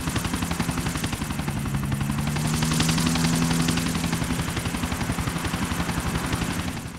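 A pursuing helicopter in the video game GTA: The Ballad of Gay Tony gives a loud, close, rapid rotor chop throughout, with bursts of gunfire mixed into the steady thumping.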